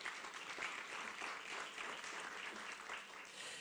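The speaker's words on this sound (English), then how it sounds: "Let's give him another round of applause." Audience applause follows a performance at an Essex County Freeholders Italian Heritage Month celebration: a dense, steady wash of many hands clapping, fairly faint and distant, sustained throughout without a break.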